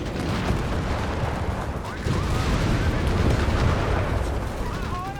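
An anti-tank gun crew fires amid a chaotic Company of Heroes 3 battle between Wehrmacht and US forces, booming artillery-like shots and explosions layered over constant rumble, with a commentator talking over the din.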